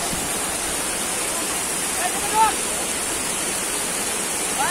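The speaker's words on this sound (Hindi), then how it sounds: "झरना इधर से जा रहा है" Steady broadband rush of a waterfall at Lonavala hill station, heard from near its top, constant and fairly loud with no clear talk over it.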